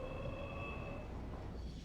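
Train running on a railroad track in the Satisfactory video game, a faint steady rumble with thin sustained tonal whines fading toward the end.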